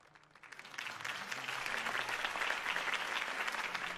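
Crowd applause at a political campaign rally in the Batman Telltale video game, a dense sustained roar of clapping that swells after a quiet start and holds steady and loud.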